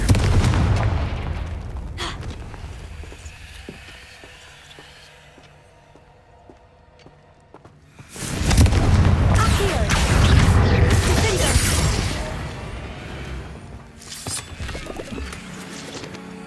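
In the Hogwarts Legacy video game, a Confringo fire spell detonates midway with a loud, sudden burst of booming, crackling blast noise. The explosion rumbles for several seconds over quieter in-game ambience.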